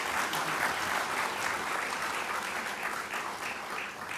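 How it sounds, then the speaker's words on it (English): A large audience applauds steadily after a Dance in Africa performance at an opening ceremony for an annual general meeting, a dense, even wash of clapping that holds at full strength throughout and eases only slightly near the end. "Ladies and gentlemen, another round of applause for Dance in Africa."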